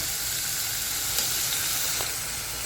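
A spoonful of ginger garlic paste hits hot oil with red chili paste in a pan, producing a steady, dense, close sizzle that holds evenly throughout with no talking.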